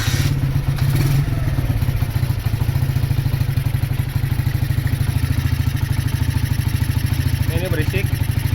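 A Honda GL100 motorcycle engine bored up to 160cc runs at a steady, loud idle with a busy mechanical clatter, close by, while someone talks over it.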